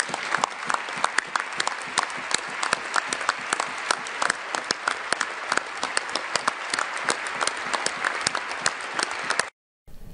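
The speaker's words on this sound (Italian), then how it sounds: "Allora, applausi" A parliament audience breaks into sustained applause, individual claps standing out crisply within a dense, steady rhythm that stops abruptly just before the end.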